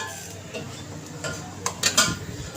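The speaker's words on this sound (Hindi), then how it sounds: "यहाँ से हम एक कटोरी पकड़ेंगे" Ceramic dishes clink as a small bowl is lifted from a stack in a home kitchen, a few light knocks followed by a brief cluster of sharp clatters near the end.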